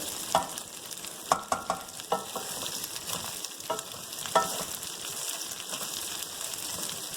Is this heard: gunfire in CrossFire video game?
no